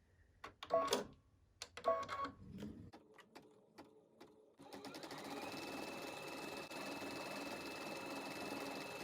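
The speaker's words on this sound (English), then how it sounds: "let's continue to stitch our fill stitch" A Baby Lock Altair embroidery machine stitches a fill stitch. A few sharp clicks and taps come first, then a steady, close, even mechanical whir runs to the end.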